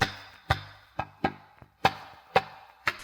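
Hollow, resonant strikes on a mammoth femur bone, seven hits in an uneven rhythm, each a sharp woody knock with a short ringing tail, played alone.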